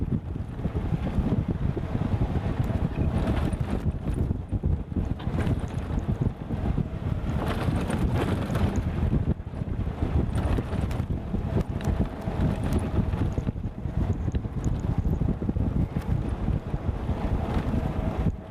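Wind blows across open safari plains and batters the microphone with a loud, steady low roar and rushing gusts that barely let up, with no voices.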